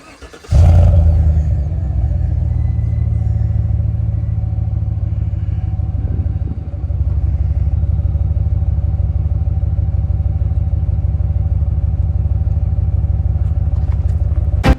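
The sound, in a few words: SUV engine starting with straight pipe exhaust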